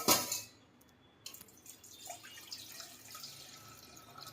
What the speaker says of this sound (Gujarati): હવે આપણે આ પાણી કાઢી નાખીએ